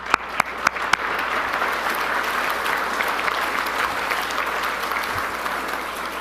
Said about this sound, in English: giving a big round of applause to our sales team